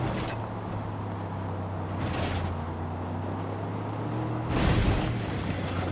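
A vehicle engine in the video game Far Cry New Dawn hums steadily at low pitch, with bursts of broadband noise as it accelerates or rumbles over rough ground.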